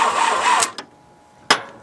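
An 80-year-old abandoned Jeep's engine cranks and catches in a short burst, drops away, then gives one more sharp sputter. Both bursts are brief, close and fairly loud, with no talking.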